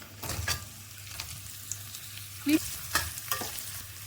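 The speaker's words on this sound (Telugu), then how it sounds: "ఇప్పుడు ఇందులో సన్నగా కట్ చేసి పెట్టుకున్న ఆనియన్స్ వేసుకుందాం" Finely chopped onions fry with garlic in a pan, a steady soft sizzle with a few stirring scrapes and clinks, close and alone without talk.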